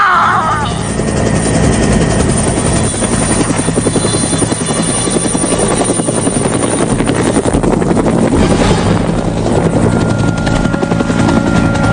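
Helicopter rotor chopping loud and close throughout, a steady thudding drone with faint voices mixed underneath.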